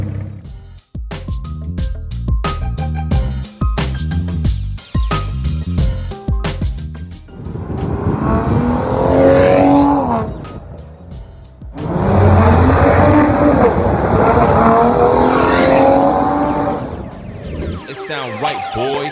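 A BMW E92 335i fitted with an aero kit of front lip, side skirts and rear diffuser drives past in two loud passes with rising and falling engine and tire roar, after a stretch of music at the start.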